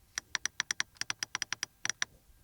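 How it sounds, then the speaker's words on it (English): Crisp plastic clicks from the control buttons of a Mercedes GLA250 interior, about fifteen quick, close taps in an uneven rhythm, alone in a quiet cabin. "still menu, clicking sound."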